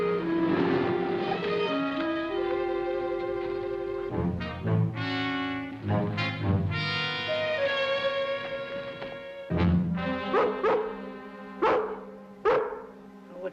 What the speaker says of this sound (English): That's the ranger's dog, Lassie.